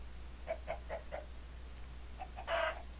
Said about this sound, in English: Is that the chicken? I've never heard that noise come from a chicken before.